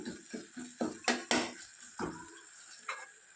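Mint and coriander cooking in a spiced tempering, stirred with a metal spoon that clinks and scrapes against the pan in quick uneven strokes over a soft sizzle, close up with no talking.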